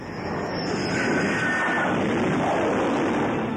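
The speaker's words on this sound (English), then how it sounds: "The pilot lands with engines roaring full throttle, so that if he misses the cable" Jet plane landing aboard the aircraft carrier USS America with engines roaring at full throttle, a loud, steady broadband engine roar filling the whole stretch without a break.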